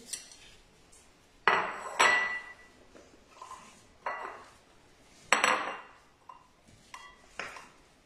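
Chopped apple pieces tumble into a bowl for a spiced apple cake, making a few sharp clinks and clatters of dish and utensil in bursts separated by quiet moments, close and fairly loud.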